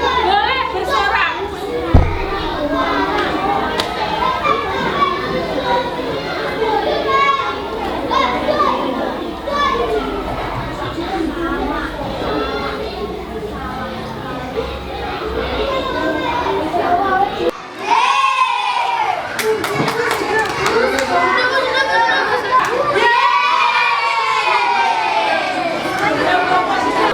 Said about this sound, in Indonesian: Ditata, kelompoknya nanti yang sudah selesai boleh bersorak.